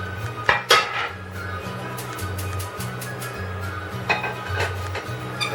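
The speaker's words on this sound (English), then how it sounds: "I'm going to get a pan here" A pan handled in a home kitchen before sautéing, with a couple of sharp metallic clanks near the start and another near the end, light rattling of cookware between them, close and alone.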